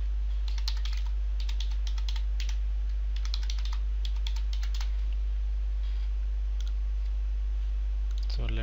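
Keys clicking on a computer keyboard while a password is typed during SAP user setup, in quick irregular bursts of close taps that thin out and stop partway through, with no talk.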